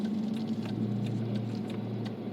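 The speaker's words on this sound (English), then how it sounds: "she is starting to get that notorious Hemi tick on the passenger side" Faint, rapid valve ticking from the passenger side of a Dodge Challenger R/T Hemi engine repeats over a steady low engine hum at idle, light and mechanical, close by.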